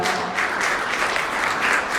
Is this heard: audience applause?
yes